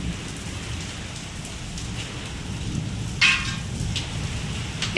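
Hailstones and rain fall during a fierce storm with strong wind, a steady dense hiss of pattering drops throughout, broken by one sharper, louder impact partway through; no voices are heard.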